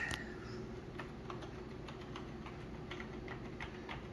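Keys clatter on an Amiga 1000 computer keyboard, a soft, quick run of light clicks in a steady flow, faint beneath a constant background hiss, with no voices.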